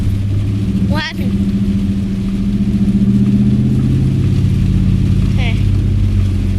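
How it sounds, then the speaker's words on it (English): A Chevrolet Camaro revs hard during a wet-road burnout in the rain, its engine droning loud and close with rising and falling pitch, tires squealing briefly under a steady roar. "still one more burnout!"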